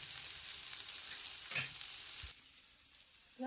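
Crushed green chilli, garlic, ginger and cumin sizzle in hot oil for a tempering, a soft steady frying hiss that drops away sharply near the end.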